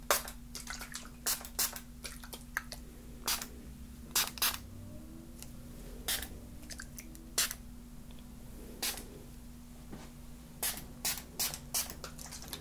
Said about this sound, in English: we're just going to spray this around